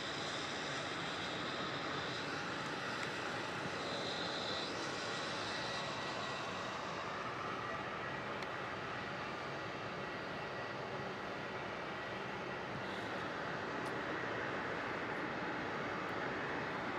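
A Kalitta Boeing 747 at Melbourne Airport at night, a distant broad steady engine roar holding constant for many seconds with no clear rise or fall.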